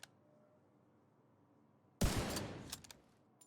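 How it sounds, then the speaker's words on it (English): A single loud, sharp sniper rifle shot cracks in The Division 2 on a shooting range after near silence, with a booming tail and a few quick clanks right after. "I'm going to just use my sniper rifle and we're going to hit as many headshots here as we can"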